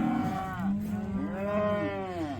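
Cattle on a farm sale day give low, drawn-out moos, two overlapping calls close by over a brief span, fairly loud with no talk.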